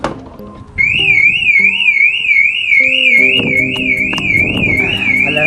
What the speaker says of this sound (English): Alarm is activated.